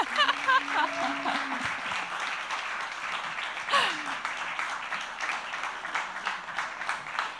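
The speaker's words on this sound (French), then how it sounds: "Applaudissements." Audience clapping at a festival screening event, moderately loud and steady, mixed with voices and a host speaking over it throughout.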